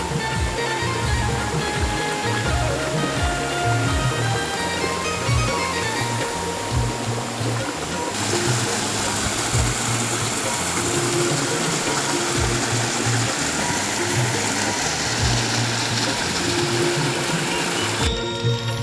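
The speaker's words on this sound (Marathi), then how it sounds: "हे बघा कोकणातले सुंदर असं धबधब्याचं दर्शन" Tivare waterfall in Konkan roars steadily and loudly throughout, a dense, unbroken rush of falling water with no voices.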